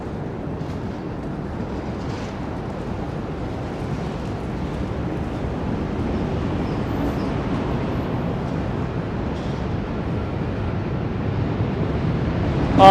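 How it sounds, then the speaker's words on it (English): A steady, distant rumble of trains rolling across the Manhattan Bridge in New York, with wind noise over the microphone, continuous and fairly quiet, with no one speaking. "Symphony of Train Sounds."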